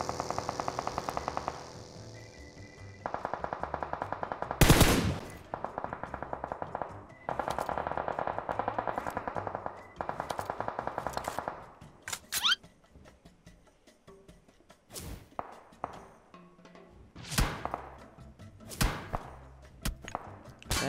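Automatic gunfire in the mobile battle-royale game PUBG Mobile, heard as repeated rattling bursts with a sharp loud shot near the five-second mark and scattered distant shots afterward, with no talking.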